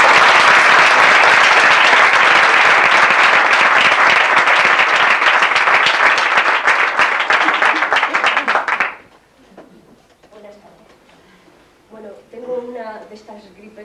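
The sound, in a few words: audience applause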